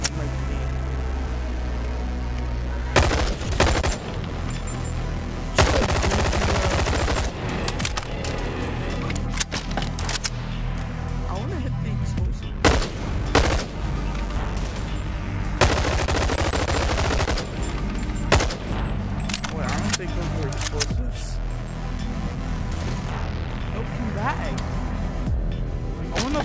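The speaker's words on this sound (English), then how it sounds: "I still hear him shooting." Gunfire in the VR game BONELAB comes as repeated bursts of sharp, loud shots with short pauses between them, while a person talks over much of the action.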